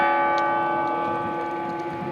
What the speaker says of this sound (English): The noon bells rang today at St.